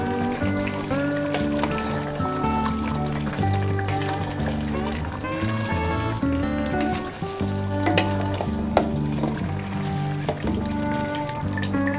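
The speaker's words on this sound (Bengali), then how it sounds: "মাংস দিয়ে দিলাম দিয়ে দিয়ে আমি একটু মিক্স করে দিব লাড়াচাড়া দিয়ে" Meat sizzles in a pan with ginger, garlic and leaves, stirred continuously; a steady close frying hiss runs throughout under soft background music and occasional scraping.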